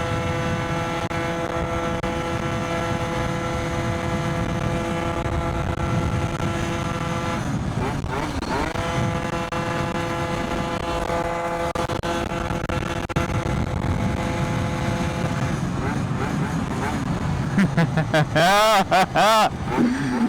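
A tuned Stage6 70cc engine on a Yamaha BWS scooter drones steadily while riding, pitch rising and falling with throttle changes, wind rumble throughout and brief revving near the end.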